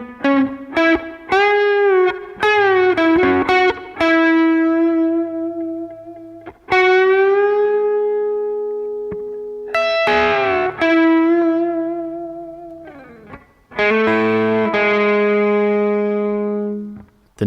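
Electric guitar with distortion plays a solo line, sustained bent notes and short picked phrases separated by brief gaps, loud and close with no talking.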